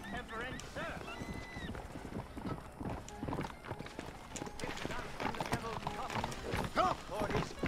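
Horse hooves clip-clopping in Red Dead Redemption, a steady rhythmic walking beat under game music and someone talking over it throughout.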